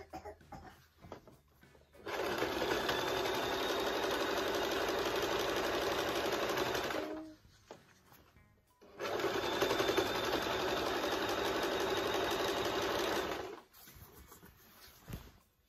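A sewing machine stitching curtains runs in two steady, fairly loud whirring bursts of about five seconds each, separated by a short pause, with faint household sounds before and after.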